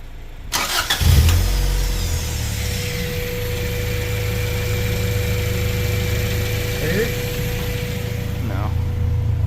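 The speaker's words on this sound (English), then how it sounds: "turn on your car and then turn on your AC switch" A Honda Integra engine cranks briefly and catches, then settles into a steady idle with a constant hum and a thin high whine, heard close and loud for the rest of the clip.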